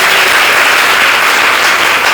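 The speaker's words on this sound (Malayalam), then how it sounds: "അത് സത്യമാണെങ്കിൽ നിങ്ങളൊന്ന് കൈയടിച്ചു കേട്ടോ." An audience at a devotional gathering breaks into steady, dense applause, many hands clapping together in a continuous, loud wash that holds evenly from start to finish without any talking.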